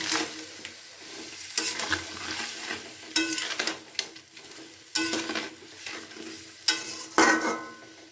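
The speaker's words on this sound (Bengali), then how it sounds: "এবারে খুব ভালো করে মশলাটা এখানে কষিয়ে নিচ্ছি কপির সাথে" Spice paste stir-fried with cauliflower florets in a pan makes a sizzle broken by repeated bursts of spatula scraping about every second or two, close and moderately loud.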